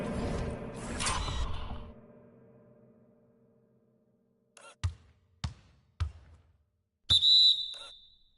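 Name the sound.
referee whistle for three-second call in basketball video game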